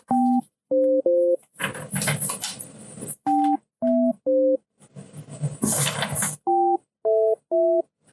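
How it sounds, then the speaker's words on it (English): Phone line tones during an attempted call: short paired electronic beeps in uneven groups, broken up by two longer bursts of harsh ringing-like noise, loud and close with no talk. "we got Franks and Beans over here trying to make a phone call"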